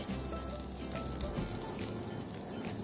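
Onions frying in oil in a wok, a loud, dense, continuous sizzle with no breaks and no talking.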